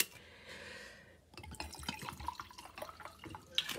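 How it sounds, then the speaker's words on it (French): Water running from a tap, a brief hiss of flow followed by splashing and dripping as a container fills up close by, with no talking. "On va se prendre un peu d'eau."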